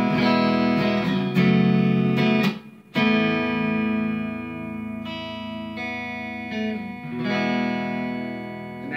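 Squier Bullet electric guitar played clean through a Marshall MG100 HDFX amp with a touch of reverb, sustained ringing chords and a few sharp strums, briefly cut off mid-phrase before ringing out again, with no talking.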